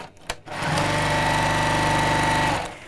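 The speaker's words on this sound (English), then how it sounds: "let's sew all the way around" A sewing machine runs steadily at speed, stitching all the way around a curved-top tote bag, a continuous close mechanical whir lasting a couple of seconds before stopping, after a brief clunk at the start.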